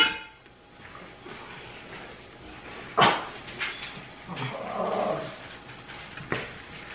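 Dogs barking and scuffling indoors in a home kitchen, with sharp yelps and a loud bark burst around the middle, followed by growling and whimpering noises over a low household background.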